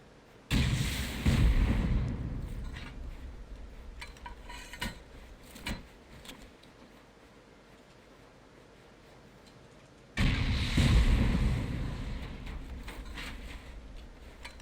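Two heavy explosions from C4 and rockets blast through armoured floors during a raid in the game Rust. Each is loud and booming with a long rumbling decay, spaced about ten seconds apart, with scattered smaller thuds and debris clatter in between.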